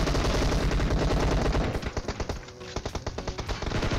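Rapid bursts of Uzi gunfire in the mobile battle-royale game PUBG Mobile, loud and dense at first, then breaking into short separate rattling volleys toward the end.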